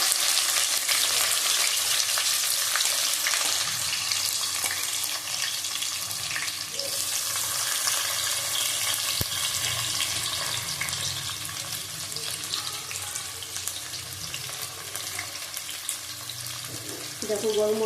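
Chopped onion frying in oil in a pan while cooking a mutton, Malabar spinach and hilsa head dish, a loud, steady, hissing sizzle throughout, close by, with a faint clink partway.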